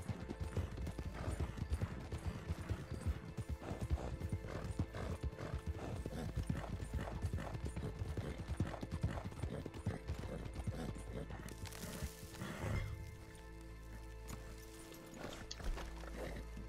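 Horse hooves gallop in a steady, rapid clip-clop rhythm through Red Dead Redemption 2, loud and continuous with occasional whinnies, before easing off near the end.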